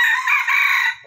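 A rooster crows loudly and close by, one sustained call lasting about a second, ending with a brief trailing note.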